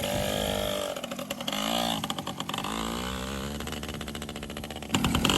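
A Yamaha PW80 dirt bike engine revs up in several sharp bursts, then drops back to a rough, sputtering idle before picking up again, close and fairly loud.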